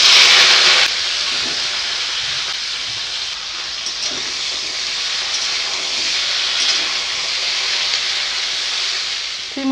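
Salted, cut flat beans fry in hot oil with a continuous bright hiss and sizzle, loudest at the very start and then settling into a steady crackle; no voices.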